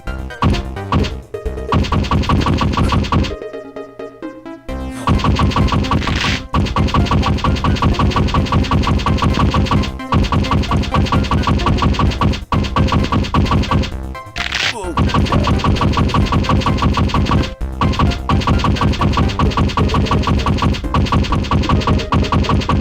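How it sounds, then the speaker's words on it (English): Rapid, loud bursts of machine-gun fire from the Ultra Custom Night video game run almost without pause, with short breaks between sustained volleys and heavy thunking impacts. "Mouse to move, space to shoot."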